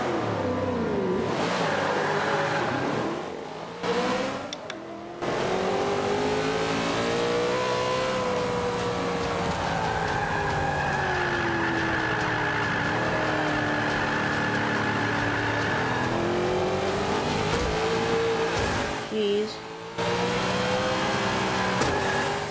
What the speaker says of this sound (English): I think this is a diesel engine.